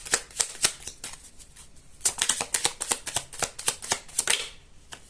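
Tarot cards shuffled by hand for a cross spread, a crisp riffling flutter in quick bursts with a brief pause near the middle, close and fairly quiet with no voices.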